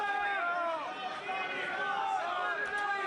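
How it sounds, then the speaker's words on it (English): Restless crowd at a cage fight, a dense murmur of many voices with scattered shouts and chatter, loud and continuous with no single voice standing out. "Oh, the crowd is getting restless."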